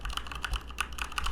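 Fast typing on an IBM Model M or Model F mechanical keyboard gives a quick, even run of crisp, close key clacks, fairly quiet and with no voices.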